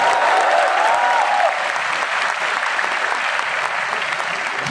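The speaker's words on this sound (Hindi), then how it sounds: "ऐसे दोस्तों के लिए भी एक बार जोरदार तालियां बजाओ" Loud, dense applause fills a lecture hall as an audience of IIT BHU students claps for a motivational speaker, steady throughout and easing slightly after the first second.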